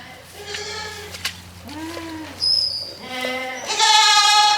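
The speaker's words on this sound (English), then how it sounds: "I climb over this and lure the goats out" Several goats bleat close by in short, wavering calls, one after another, with a person speaking briefly between them.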